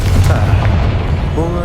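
A Confringo blasting spell in Hogwarts Legacy bursts with a low, rumbling boom that fills the short moment, with a voice speaking alongside it.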